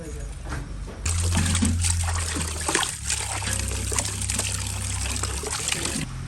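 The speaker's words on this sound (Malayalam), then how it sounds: "കുറച്ച് വെള്ളം ഇതിലേക്ക് നമുക്ക് കുറച്ച് കല്ലുപ്പിട്ട് എടുക്കാം" Water with rock salt is poured into a pot for biryani, a continuous close trickle and splash under talking that runs for several seconds.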